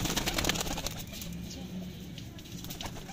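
A young pigeon and others in a Sialkot loft give soft, low cooing that runs under light talk and rustling, fairly close and steady.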